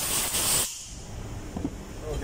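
Compressed air hisses loudly in a short burst while blowing a fuel valve from a ship's main engine clean during overhaul, then cuts off, followed by quieter handling noises.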